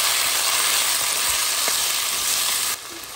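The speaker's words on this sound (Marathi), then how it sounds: "दोन मिडियम सायज टोमाट घालया आमी हे भशेन चॉप करून आनी बरें भाजून काडया" Two chopped medium tomatoes and four green chillies fry in a pan for a South Indian fish curry. The sizzle is loud and steady, with faint stirring, then eases slightly at the end.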